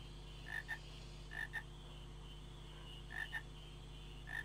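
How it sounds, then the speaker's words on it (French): Frogs croak in the video game Final Fantasy IX, short paired croaks repeating at irregular intervals over a steady low ambient hum, moderately close and fairly quiet. "Il y a des grenouilles, Miam"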